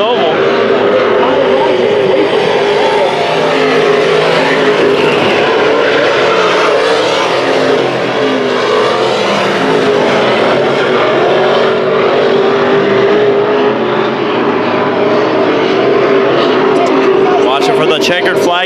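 IMCA Modified race cars roar through a heat race on a 3/8-mile dirt oval at Arizona Speedway, a loud continuous wall of engine noise with shifting revs under an announcer's voice.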